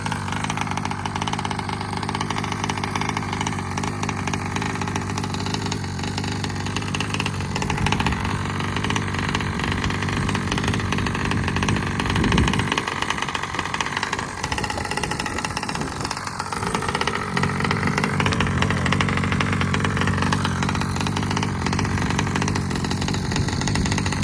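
An engine fitted with an aftermarket 990 Roostertail carburetor in place of the stock 1107 runs steadily outdoors, a loud continuous idle with a brief rev near the middle and no talking.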